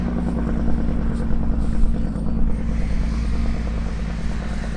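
Truck engine braking with a Jake brake, a loud, close, pulsing low rumble with a rapid rhythmic chatter that holds steady for several seconds.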